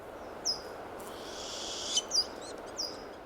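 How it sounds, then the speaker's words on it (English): A mother owl with young calls in a Siberian forest in mid-June, giving a few short, high, faint cries spaced apart over a soft, steady background hiss. "The owl continuously called the male, who regularly brought food."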